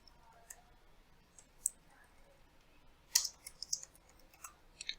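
Sharp, quick computer mouse clicks on a desktop PC while creating a folder, a few isolated taps spread over the stretch, fairly quiet and close, with no talking.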